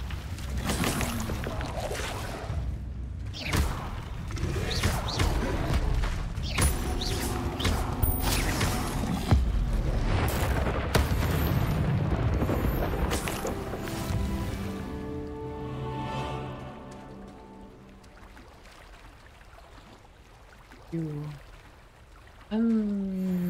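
An Incendio fire spell cast in Hogwarts Legacy gives a loud, dense rushing and crackling blast that runs for several seconds under a voice, then fades to a quieter bed with a few short vocal sounds.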